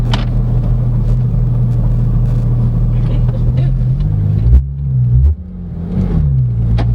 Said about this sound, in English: If you can hear that clanking sound, that is actually the clutch.